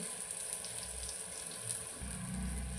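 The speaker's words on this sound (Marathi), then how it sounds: "अगदी थोडं आता व्यवस्थित अगदी फ्राय करून घेते मिडियममध्ये मी गॅस ठेवलेला आहे" Eggplant (brinjal) slices frying in a little oil in a pan over a medium gas flame give a steady, close sizzle that holds an even level throughout, with no talking.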